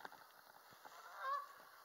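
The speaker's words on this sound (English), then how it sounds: "You can hear the geese." Geese honk at a park pond, a few faint distant calls building to one clearer honk near the end over quiet outdoor ambience.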